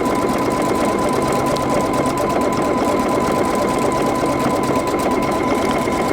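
A PFAFF Creative Icon sewing machine runs a decorative satin stitch, a loud, close, continuous rapid needle hum with a fast even rattle and no pauses.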